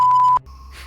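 A ghost-hunting meter buzzes: a steady electronic tone for about a third of a second, then drops to a quieter, thin hum with faint hiss.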